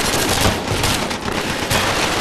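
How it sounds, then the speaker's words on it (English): Sustained machine gun fire in the shooter Killzone 3, a dense, continuous roar of rapid gunfire with overlapping bursts that stays loud and unbroken throughout. "But those machine guns are tearing us apart!"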